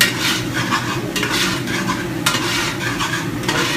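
Garlic, onions and carrot cook in a pan for marinara sauce, giving a loud, close sizzle broken by repeated scraping stirs of a utensil against the pan.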